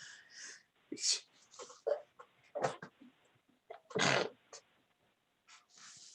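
A single sharp sneeze bursts out amid breathy, sniffly vocal noises, close and fairly loud, with short quiet gaps between sounds.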